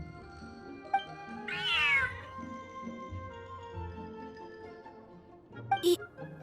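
A cat meows once in Genshin Impact, a bright wavering call rising over soft game music, followed later by a short higher chirp.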